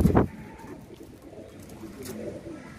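Pigeons at a loft in Vellore give a short, close, loud coo at the start, followed by softer rustling and faint bird sounds.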